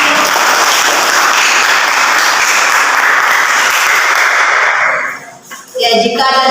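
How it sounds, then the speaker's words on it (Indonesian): Classmates applaud in a classroom after a student group finishes: loud, dense clapping for about five seconds, then it dies away and a voice starts talking. "Tepuk tangan."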